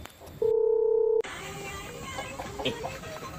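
A steady telephone dial tone sounds in an earpiece for under a second while calling, then cuts off into quiet room noise with faint clicks and movement.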